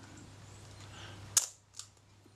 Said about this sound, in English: The shutter cocks